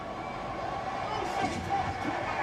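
A wrestling arena crowd in Riyadh roars in steady, broad cheering, with swells of louder noise and faint voices rising through the sustained din.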